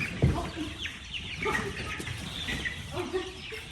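White leghorn and copper maroon chicks, moved from a brooder into a coop during a thunderstorm, cluck and peep softly nearby amid rustling and background noise, with occasional voices.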